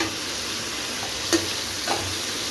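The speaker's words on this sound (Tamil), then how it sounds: "தக்காளி ஆட் பண்ணதுக்கப்புறம் திருப்பி மறுபடியும் நல்லா வந்து வதக்கி விடணும்." Tomatoes sautéing with ginger garlic paste for chicken kolambu give a constant soft frying hiss, with one sharp clink of a utensil and a faint stir midway.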